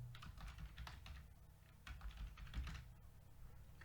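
Rapid computer keyboard typing while entering text in Microsoft Word, a steady run of light clicking keystrokes in short bursts, close and fairly quiet, with no talking.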